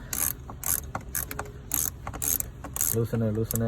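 A ratchet wrench loosens a battery terminal on a 2016 Toyota Camry, giving rapid clicking bursts of the pawl in short strokes, close up, with a brief voice near the end.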